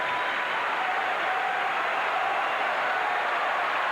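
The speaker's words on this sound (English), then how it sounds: "The crowd is going bananas for Michael Chang" A tennis crowd applauds and cheers loudly for Michael Chang at a 1995 match in San Jose, a dense, unbroken roar of clapping that fills the whole stretch at a far, arena-wide distance.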